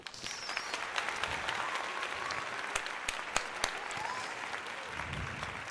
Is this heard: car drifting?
no